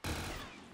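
An MG81 machine gun in Black Ops 3 custom zombies, heard as a short, loud burst of gunfire that rings out and fades, with no talk.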